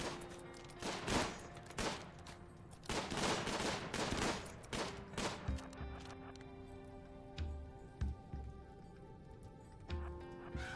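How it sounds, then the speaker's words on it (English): Bursts of gunfire against zombie hordes in the strategy game Imps versus Zombies, fairly faint rattling volleys early on that give way to lighter scattered shots over a low game hum. "it's going to be a lot of shooting and scooting"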